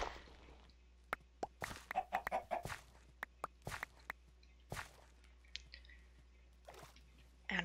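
Scattered video game chicken clucks, with short taps and soft steps over a quiet hum, loud bursts spread across the stretch.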